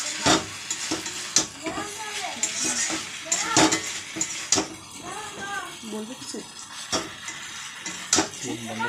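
Chow mein stir-fried in a pan, with repeated sharp clanks and scrapes of a utensil against the metal over a soft frying hiss, while a person talks throughout.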